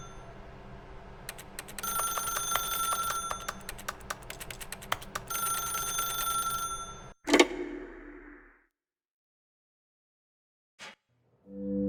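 Telephone ringing in The Stanley Parable, repeated electronic bell bursts over a steady room hum with a faint clicking rhythm, then cutting off abruptly into near silence with one short tone afterward.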